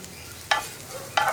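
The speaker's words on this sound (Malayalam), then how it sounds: "പഴം ചേർത്ത് നന്നായിട്ടൊന്ന് ഇളക്കി മിക്സ് ചെയ്യുക." Banana pieces being stirred in ghee in a pan: a soft frying sizzle broken by two quick scraping strokes of the spoon, close and fairly quiet, with no voice.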